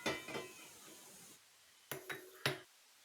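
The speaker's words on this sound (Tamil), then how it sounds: "ஒரு பாத்திரத்தை வச்சுக்கலாம்." A cooking pot is set down on a stove, making a few sharp metallic clanks near the end after a stretch of softer clatter, close and fairly quiet, with no voices.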